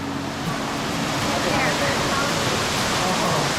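Waterfall at Watkins Glen State Park roars as a steady, dense rush of falling water close by, broadband and unbroken, with faint voices beneath it.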